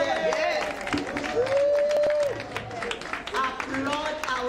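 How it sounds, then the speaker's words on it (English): An audience applauds longtime legacy vendors at a 2024 Black History Month celebration; steady clapping runs under a person talking throughout. "I need you to put your hands together and applaud them"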